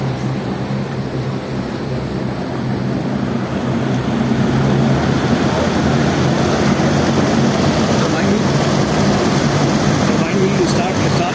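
A small wind turbine on a wind energy training rig spins with a steady, continuous whirring drone that holds at an even level from start to finish, like a fan or airflow running close by.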